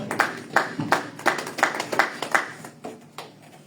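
A Sunday worship congregation claps together in a church, a steady rhythmic beat of about three claps per second that fades slightly toward the end, with no talk over it.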